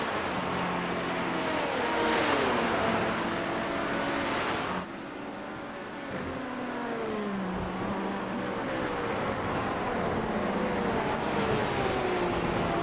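Sim race cars on the Road Atlanta circuit during a Petit Le Mans eSports event, engines whining and shifting pitch through a chicane as several cars pass one after another, loud and continuous with a brief dip.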